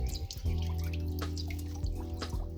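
Water from a submersible pump supply flowing steadily in a village setting, a continuous close splashing and gurgling stream with droplet-like patter throughout.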